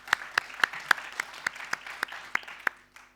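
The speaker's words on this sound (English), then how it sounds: "Round of applause, please." A small audience at a UK climate resilience conference gives a short round of applause, about a dozen distinct, fairly spaced claps that thin out and stop after three seconds, heard alone without talk.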